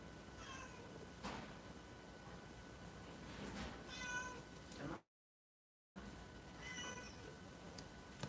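A cat meows several times with brief, clear calls spread across a quiet room background, with a short silent gap partway through.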